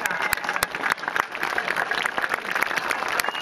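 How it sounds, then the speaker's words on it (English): Applause from the audience at an award presentation, with dense clapping and several sharp individual claps standing out, holding steady throughout. "Let's have one more big round of applause for all the participants today."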